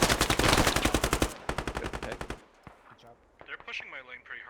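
Rapid automatic gunfire rattles in the Squad video game, dense bursts for about two seconds, then sparser shots fading into distant popping and ambient battle noise.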